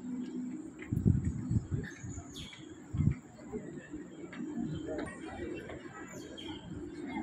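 Pigeons in a temple courtyard at Batu Caves, Malaysia, give soft low cooing and occasional chirps heard from a distance below, with a couple of louder coos rising over faint murmuring voices and ambient crowd noise.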